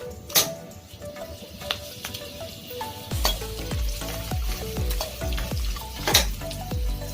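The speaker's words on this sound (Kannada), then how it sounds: "ಈಗ ನಾನು ಬ್ಯಾಡಗಿ ಮೆಣಸಿನ್ಕಾಯಿ ಹಾಕ್ತಾಯಿದ್ದೀನಿ." Byadagi dried red chillies drop into hot oil with roasted peanuts, chana dal and urad dal, setting off a loud, steady sizzle and fry with repeated stirring knocks against the pan.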